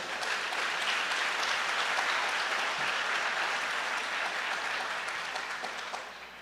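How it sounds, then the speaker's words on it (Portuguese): A church congregation applauds in steady, dense clapping that fills the space from start to finish, easing slightly toward the end. "Você pode aplaudir o Senhor, querido?"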